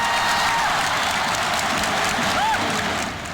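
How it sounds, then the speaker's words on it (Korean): A dense, loud roar rises from a large crowd of Chinese football fans in a stadium, booing after a missed pass; the broad wash of voices stays steady and dips slightly at the end. "손흥민이 이강인의 패스를 놓치자 중국 관중들의 야유가 쏟아집니다"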